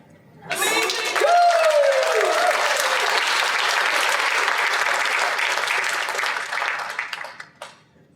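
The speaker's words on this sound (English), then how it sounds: "Let's give Sam another round of applause." A convention audience breaks into loud, sustained applause after a voice acting reading, the clapping swelling within a second and holding steady for several seconds before tapering off, with a brief voice rising at the start.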